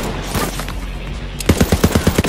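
Rapid gunfire from a weapon in the video game Borderlands 3, with a burst of about eight loud, evenly spaced shots in the second half after a stretch of quieter game sounds.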